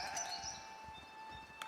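Sheep bleating in the village-building game Foundation, a few short bleats with faint chirping in the background and steady tonal ambience.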